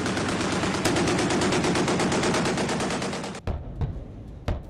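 Rapid automatic gunfire from the guns of a Chinese Type 055 Nanjing destroyer, a dense continuous burst of fast shots lasting several seconds, then stopping abruptly before a few isolated loud reports.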